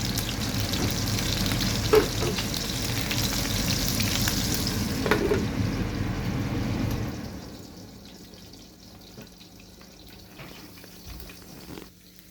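Hamburger patties topped with cheese sizzle loudly and steadily in a pan; after about seven seconds the lid goes on and the frying drops to a soft, muffled hiss with a few faint ticks.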